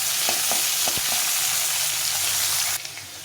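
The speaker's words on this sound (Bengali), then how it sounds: "আলুটা লাল লাল করে ভেজে নেব প্রথমে।" Potatoes fry in hot oil with cumin in a pan, giving a loud, continuous sizzle with a few sharp stirring clicks early on before it eases near the end.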